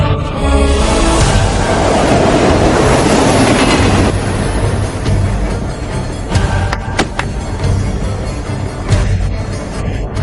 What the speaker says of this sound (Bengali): ওই ট্রেনটা এদিকে এগিয়ে আসছে